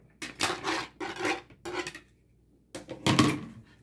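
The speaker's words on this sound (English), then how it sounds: "So I'm just go ahead and put the onions in here." Chopped onions tumble from a container into a crockpot, giving several bursts of rattling, scraping clatter in quick succession, then a short pause and a final louder clatter.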